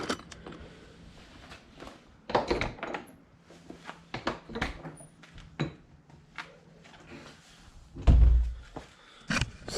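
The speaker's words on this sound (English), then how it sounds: "We'll go out back and open the rear door." Rear door of a 2020 Intech Flyer Explore toy hauler camper opening, close and moderately loud: a string of latch clicks, clunks and light rattles, with a heavier thud near the end.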